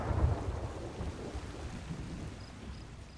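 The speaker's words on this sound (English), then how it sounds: "Oh, it's thunder." Thunder rumbles during a rainstorm in the pirate video game Sea of Thieves, a low, steady roll over the patter of rain, with no voices.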